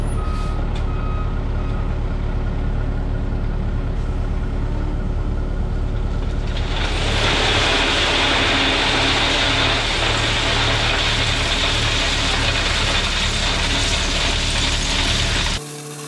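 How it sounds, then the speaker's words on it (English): A tracked excavator works while placing stone into a storm water trench, its engine and clanking mechanism steady and loud, growing louder and harsher partway through before cutting off abruptly at the end. "I've got the stone about as far as I could reach with the excavator"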